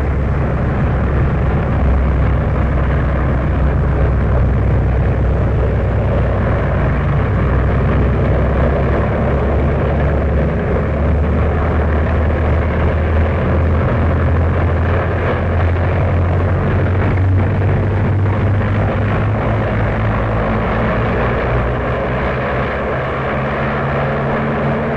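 A light aircraft engine drones loud and close as it taxis to the west runway, a steady propeller roar holding throughout with slight shifts in pitch and no talk.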